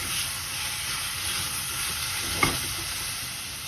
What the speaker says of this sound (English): Keep on stirring it rapidly because, as you can see, there's hardly any liquid there